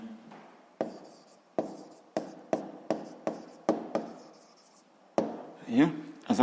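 A pen taps and scratches on paper in a series of short, evenly spaced strokes, close and fairly loud, followed by a brief rubbing scrawl.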